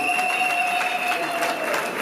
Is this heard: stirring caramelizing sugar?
no